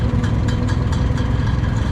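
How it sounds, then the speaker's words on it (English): Older tractor engines run at the Minneapolis Moline Half Century of Progress show, a loud, steady, low chugging idle with a faint rhythmic pulse, close by and continuous. "See over here, you got some of the older tractors, some crawlers with plows."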